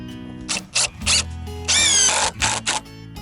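A cordless power drill drives screws into a wooden raised garden bed board in several short whirring bursts, followed by one longer rising run as a screw seats, close and loud.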